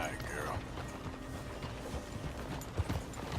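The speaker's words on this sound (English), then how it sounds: "Get a hold of that horse, will you?" Horse hooves clip-clop in Red Dead Redemption 2, a soft, steady patter under dense background noise and a faint voice.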